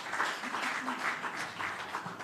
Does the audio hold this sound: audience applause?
yes